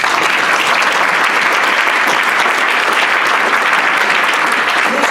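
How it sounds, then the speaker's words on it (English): Sustained, loud applause from a Rotary meeting audience fills the room evenly, dense clapping with no pauses from start to finish. "Another round of applause."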